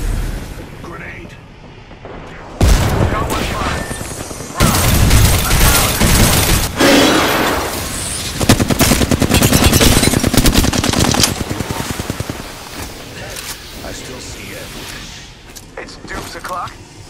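Video game firefight with rapid bursts of automatic gunfire and heavy grenade blasts, loud and close, rising to a sustained barrage and then thinning out, with voices calling out over the shooting.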